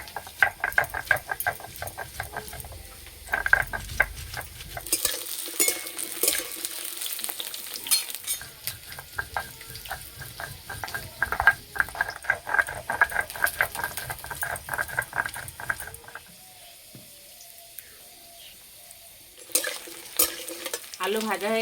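Whole cumin, dried red chilies, ginger and garlic fry in hot oil, giving a steady crackling sizzle broken by repeated scraping and stirring strokes from a spatula. The frying quiets near the end before the stirring picks up again.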